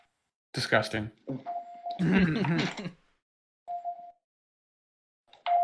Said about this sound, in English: where there's your rich person security system